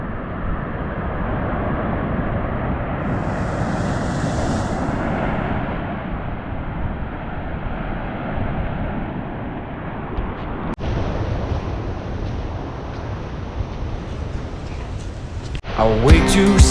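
Strong surf pounds Jomalig beach in Quezon, a dense continuous roar of breaking waves with wind buffeting the microphone, heard up close and loud, with a brief sharp knock near the end.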